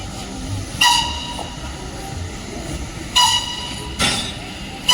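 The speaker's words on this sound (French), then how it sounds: "Et voilà, notre train est de retour. Avec la loco dans l'autre sens." A train returns with its locomotive running reversed: a steady rumbling hiss under three sharp, bright squeals or short whistle-like bursts, all fairly close.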